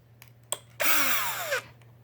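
A power driver whirs for under a second while backing a small machine screw out of an X-Maxx RC truck, preceded by a couple of faint clicks and ending abruptly, loud and close.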